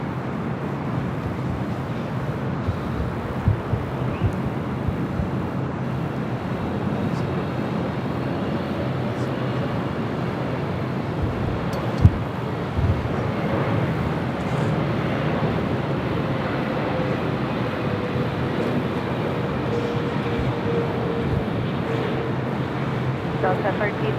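A Boeing 777-300ER arrives on runway 24 right at LAX, heard as a steady broadband jet roar that holds for the whole stretch under distant airport ambience, with a brief sharp knock near the middle.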